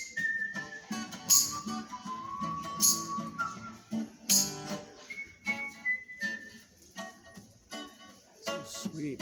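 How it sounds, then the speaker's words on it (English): A man whistles a tune on a Boston street, with clear, sliding melodic phrases that come and go near the listener, broken by short gaps and other voices talking in the background. "You got a sweet whistle, man."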